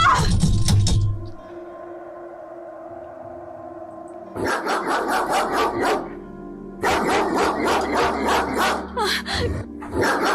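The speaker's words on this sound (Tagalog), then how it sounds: "May mga aso sa labas ng kulungan kinalalagyan ko." Several dogs barking in bursts, a short flurry at the start, then two longer stretches of rapid, overlapping barks and yips, loud and close.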